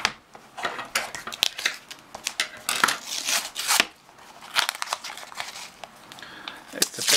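Paper packaging is crinkled and torn away during the unboxing of a boxed Sinclair ZX Spectrum game, a close, busy run of rustles, crackles and sharp snaps with brief pauses.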